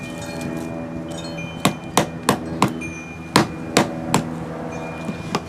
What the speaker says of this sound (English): I'm just going to use this soft mallet here